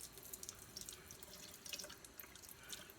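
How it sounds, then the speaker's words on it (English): Lukewarm tap water runs steadily from a faucet into a sink while a bottle is being cleaned, a continuous splashing hiss with small spatters throughout, fairly close and without speech. "What I'm going to do is just turn this water back on."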